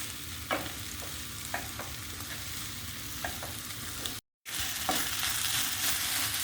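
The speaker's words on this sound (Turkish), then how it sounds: "tavama karamelize olmuş soğanla birlikte baharatların güzelce içine geçmesi için karıştırıyorum bu şekilde" Potatoes stirred in a pan with caramelized onions and spices give a continuous soft sizzle, with a spatula scraping and tapping at irregular intervals and a brief dropout partway through.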